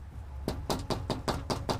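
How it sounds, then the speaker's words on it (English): Knuckles rap on a door at a house in a steady run of about six distinct knocks, loud and close with no one speaking. "I knocked, but no one answered the door."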